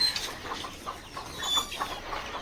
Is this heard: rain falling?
no